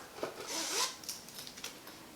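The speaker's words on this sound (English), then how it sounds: "There's like a little tassel zipper." A small tassel zipper on a polyester makeup bag or clutch is drawn in one quick, close, soft rasp, followed by a few faint rustles and handling clicks.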